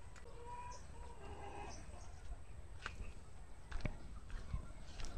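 Backyard chickens cluck and coo softly in the background while being fed sweet potatoes, scattered short calls over a low steady hum, with no one talking.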